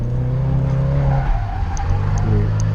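Nissan S14 drifting on a track, engine roaring loudly with a sustained rising and falling drone and harmonic whine, tires squealing and skidding throughout, continuous and close with no talking.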